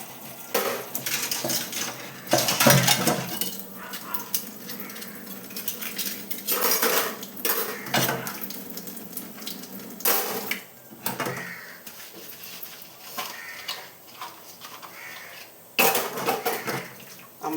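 Dishes and utensils being washed by hand in a home kitchen: irregular clinks and clatters of pots and cutlery, with bursts of running water, close and fairly loud.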